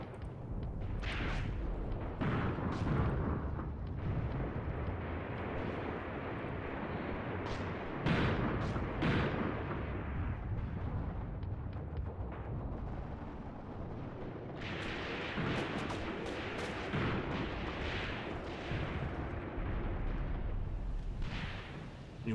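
Soviet WW2 artillery guns in a video game fire on German attackers in a dense, continuous barrage of deep booms and rolling rumble, loud and close, with sharper blasts standing out and no voices.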